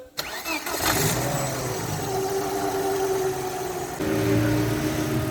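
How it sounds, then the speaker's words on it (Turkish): A Volvo car engine cranks and catches after a gearbox clutch, pressure plate and bearing replacement, then settles into a steady mid-pitched idle with a brief rise in revs near the end, heard up close in a workshop. "Şu anda aracımız çalıştı, yürümeye hazır."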